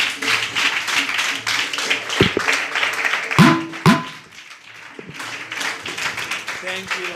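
A church congregation claps during a fasting prayer meeting, with bursts of dense, crowd-wide clapping separated by a quieter stretch and a few sharp knocks, as voices speak and pray over it.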